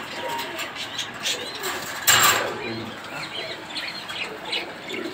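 Strong red checker racing pigeons are handled at a sale; soft cooing and a sudden burst of flapping wings come from close by amid ambient chatter.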